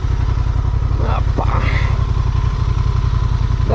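A new 2023 Honda XL750 Transalp motorcycle engine runs with a steady, loud pulsing idle close to the rider throughout, while someone speaks briefly over it.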